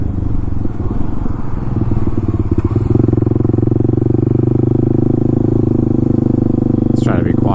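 Modified Kawasaki KLX300SM motorcycle ridden through a residential neighborhood, its single-cylinder engine a loud, steady close drone with a slightly rougher, choppier stretch at the start before settling into an even hum.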